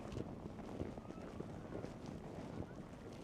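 Strong wind buffets the microphone on a cold, open mountain road near Hemu village in Xinjiang, China, making a steady, loud roar with gusty bursts throughout and no clear speech over it.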